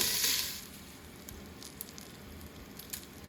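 Ghee melts in a dry cooking pot, with a brief louder hiss at the start that settles into a quiet, steady sizzle and scattered faint crackles.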